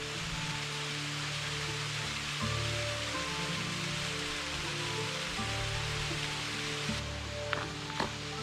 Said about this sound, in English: There it is, a little waterfall.